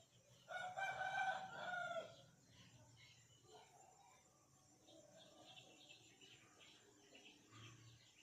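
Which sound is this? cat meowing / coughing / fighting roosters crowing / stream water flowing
fighting roosters crowing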